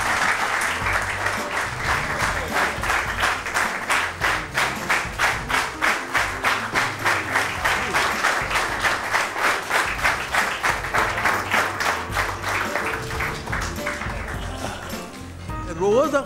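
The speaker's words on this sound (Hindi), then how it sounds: "ढेर सारी तालियां।" Audience at a televised Eid mushaira poetry gathering breaks into rhythmic applause, clapping together in a fast steady beat for about fourteen seconds before it fades, with voices faintly beneath.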